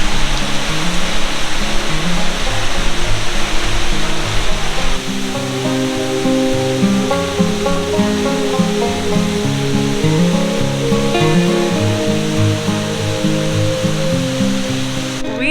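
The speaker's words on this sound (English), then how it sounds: "Nearby the main waterfall is Gullfoss waterfall." Gullfoss waterfall in Iceland in winter roars up close as a loud, dense wash of falling water, unbroken from start to finish, with a faint musical tone running underneath.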